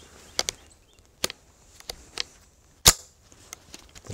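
Marlin 795 semi-automatic rifle fitted with an extended magazine, fired during a function test: a few sharp, isolated reports, one much louder near shot, with quieter clicks and handling noises spread between them.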